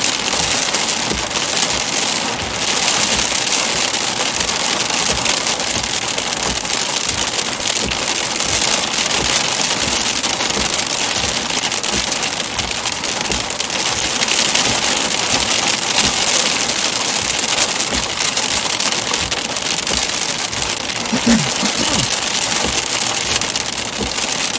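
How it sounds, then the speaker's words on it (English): Heavy monsoon rain pours steadily in Arizona, a loud, dense, continuous hiss of drops on surfaces lasting throughout with no voices. "Got our heavy rain, that was the goal."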